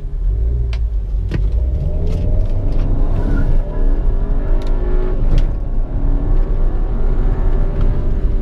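A Volkswagen Jetta TSI with a 211 hp engine rumbles loudly and close, its revs rising and falling through repeated blips, with a few sharp clicks over the continuous engine roar.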